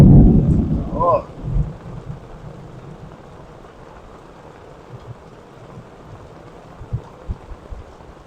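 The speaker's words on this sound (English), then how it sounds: "It's raining in here sideways on me" Heavy rain pours steadily in the Ouachita National Forest after a loud, rumbling burst at the start, with a few sharper thuds scattered later.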